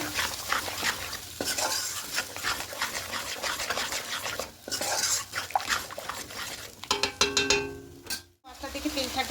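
A spice masala for a doodh katla fish curry is stirred and fried in oil, with steady sizzling and scraping of a spoon against the pan, close and rhythmic, ending in a few clattering knocks.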